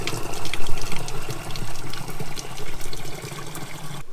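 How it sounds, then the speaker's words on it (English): Tap water pours into old Devon bottles at an off-grid home in Bulgaria, a steady hissing rush and gurgle that holds for several seconds without a break. "we're going to fill them up with water from the tap"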